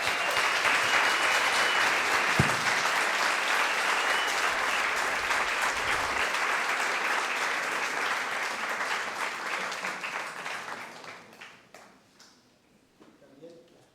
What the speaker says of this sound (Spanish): Ahora sí, el aplauso para ellos.